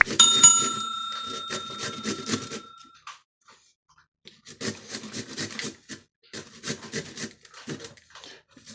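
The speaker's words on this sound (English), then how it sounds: "this is easier with a box grater, I wanted you guys to see the grate coming off" Fresh zucchini is grated by hand for apple cinnamon muffins, giving bursts of close, dry rasping strokes in uneven runs, with a pause in the middle before the scraping resumes.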